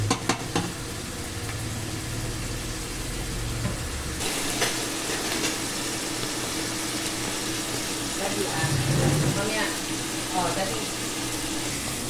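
Cubed chicken and mushrooms frying in a pan toward golden brown, a steady sizzle with stirring scrapes and a few clatters, close and moderately loud, with a voice talking over it at times.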